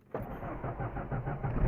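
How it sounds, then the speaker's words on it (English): A Ford engine cold-starts with a sudden catch, then settles into a rough, rumbling idle close by that grows a little louder near the end. No one speaks over it. "She fires right up like a dream."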